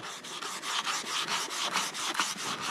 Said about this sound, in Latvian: Tad nu šādā veidā ejam uz priekšu un slīpējam ārā.